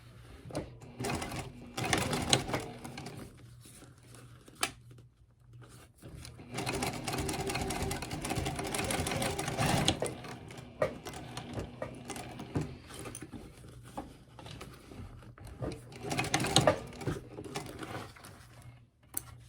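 A sewing machine stitching fabric pouch panels for a dog treat bag, close and steady with rapid mechanical whirring in several bursts separated by short pauses.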